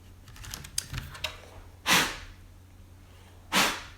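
Mechanical keyboard fitted with O-ring dampeners, keycaps off and switches exposed: a quick run of soft clicky keystrokes, then two separate louder, sharper clacks, close by with no voices.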